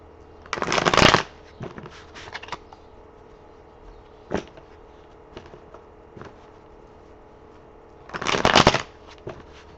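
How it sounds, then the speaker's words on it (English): Tarot cards being shuffled in two bursts of rapid riffling, near and clear, with a few faint soft taps and handling noises between them; no one speaks. "When do we stop shuffling?"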